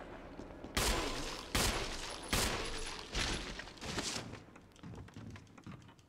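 Gunfire in the Resident Evil remake on PC, played as Chris: four or five loud, evenly spaced shots, each with a decaying tail. No talk is heard.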